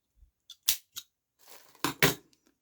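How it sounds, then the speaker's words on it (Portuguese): Scissors cut crochet thread after a small crocheted flower is finished, giving a few close, crisp snips in two clusters, with one early snip and then a quick double cut near the end, in otherwise quiet surroundings. "agora eu vou cortar esse meu fio."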